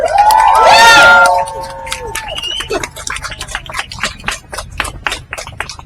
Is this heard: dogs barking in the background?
no